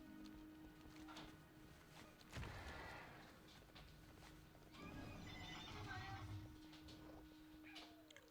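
A horse mount in World of Warcraft whinnies and its hooves clip-clop, mixed with other game sounds and a cat-like meow; faint overall, with a burst of neighing midway and more hoofbeats after.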